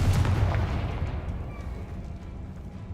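Confringo fire spell exploding in the video game Hogwarts Legacy: a loud, booming blast at the start that rumbles and fades away over a few seconds.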